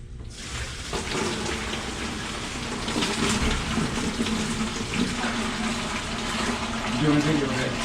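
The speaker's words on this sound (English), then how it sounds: "Dump our hot water in." Hot water pours steadily in a reptile-feeding setup, a continuous splashing rush that carries on for several seconds at close range.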